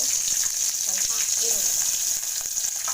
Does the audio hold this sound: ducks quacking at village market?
no